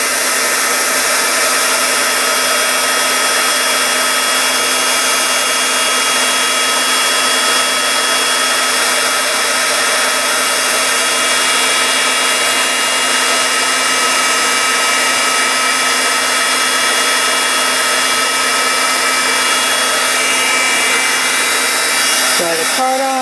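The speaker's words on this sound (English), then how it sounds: "we're ready to get loud here with our embossing heat gun" An embossing heat gun blows continuously at close range, a loud, steady whooshing roar with a constant hum that runs unbroken for over twenty seconds before cutting off at the end.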